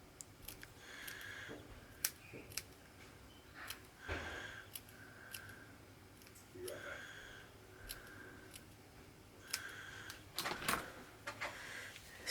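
Scissors snip through rice paper or a white napkin with pink hearts in a quiet room, a series of faint, sparse, crisp cuts spread irregularly across the stretch.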